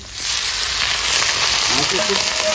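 Chicken pieces frying with chopped onions in a pan for a home-style Bengali chicken and potato curry, a steady close broadband sizzle with some stirring, no talk.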